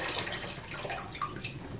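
Cold water pours into a large brew pot holding hot mead wort: a steady, close splashing rush of liquid runs for about two seconds with bubbling fluctuations.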